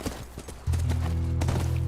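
Horse hooves clip-clopping in The Last of Us, a steady, close run of sharp hoof strikes over a low droning bed of game sound.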